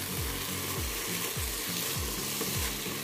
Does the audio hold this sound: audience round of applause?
no